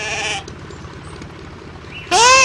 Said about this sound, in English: They're sheep and they're wearing wool coats